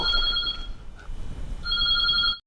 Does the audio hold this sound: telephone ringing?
yes